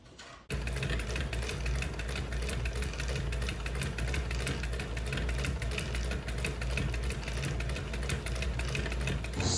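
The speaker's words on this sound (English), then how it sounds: "And sewing machines, hate them too." A sewing machine stitches a pleat in fabric, a loud continuous rapid mechanical whir and rattle that starts abruptly and runs without pause.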